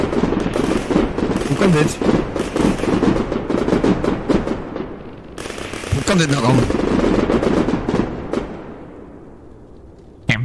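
Fireworks going off on a rooftop, a dense crackling barrage of rapid pops and bangs that runs almost continuously, with a shouting voice over it and a short lull midway before the bursts resume.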